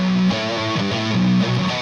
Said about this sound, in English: Okay, let's go to a distortion patch for Quentin.